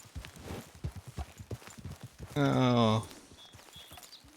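Horse hooves clip-clop at a steady walking pace in the video game Red Dead Redemption 2, with a voice briefly exclaiming over the rhythmic footfalls.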